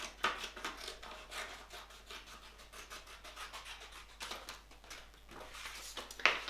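Scissors snip and scratch through a Klein logo vinyl decal, cutting it into pieces. The small, quiet cuts come in irregular bursts, with soft rustling of the material in between.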